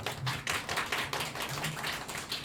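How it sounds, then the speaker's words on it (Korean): A church congregation at a Christmas service applauds in welcome, a short burst of many hands clapping together at moderate distance, dense and steady for a couple of seconds. "우리 한번 환영의 박수 부탁드리겠습니다."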